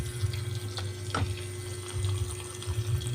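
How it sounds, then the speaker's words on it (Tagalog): A household tap runs weakly, giving a thin, uneven trickle of water over a steady low hum, with one brief splash or clink partway through and no talking. "Ano man yan, ang bagal ng tubig."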